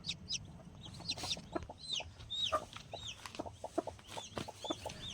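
A domestic hen clucks repeatedly with short, close, moderately loud calls while being set on a clutch of eggs for hatching, with soft rustling underneath and no talk.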